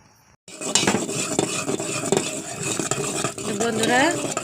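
Butter is heated into ghee in a pot and stirred with a metal utensil, with repeated scraping and clinking against the pan and a faint sizzle under the stirring, after a brief silent start.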